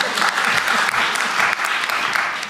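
Crowd applause at a public forum in northern Gyeonggi, a loud, dense burst of many hands clapping that holds steady and then tapers slightly at the end.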